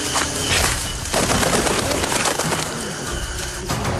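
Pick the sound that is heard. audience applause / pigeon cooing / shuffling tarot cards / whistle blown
pigeon cooing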